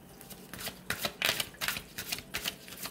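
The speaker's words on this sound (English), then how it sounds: "One more shuffle." Tarot cards shuffled by hand in a quiet room, a run of crisp riffling bursts repeating in an uneven rhythm, fairly close and soft, with no talking.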